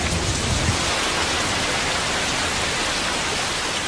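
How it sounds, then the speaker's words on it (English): Heavy rain pours down on Kauai, Hawaii, a dense, loud, even roar of water with no breaks and no voices. "Over 450 inches of rain can fall on this side of the island of Kauai every year"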